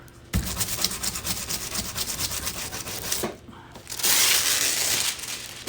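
Continuous scrubbing and rubbing on a hard surface, close and fairly loud, a steady rasping that pauses briefly and then returns stronger and brighter.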